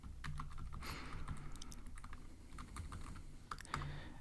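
Steady fast tapping on a computer keyboard while Python code is typed, close and clear, with a few slightly louder key hits mixed into the even stream of keystrokes.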